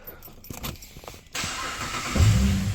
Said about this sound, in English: There you go, the car starts